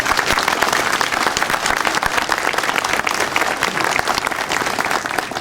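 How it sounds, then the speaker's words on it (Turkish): Loud, vigorous applause from a crowd at a CHP political gathering in Göynük, a thick continuous clatter of many hands lasting the whole stretch. "Ama büyük bir alkış istiyorum"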